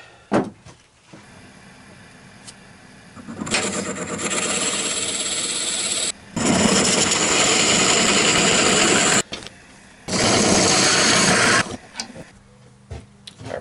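A woodturning lathe spins an oak and resin bowl while it is drilled and hollowed, cutting noise rising in several loud bursts separated by short pauses and quieter running.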